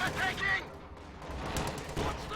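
Rattling machine gun bursts and scattered gunfire from two MG teams holding the center of a Company of Heroes 2 battlefield, dense and continuous, sitting under a commentator's voice.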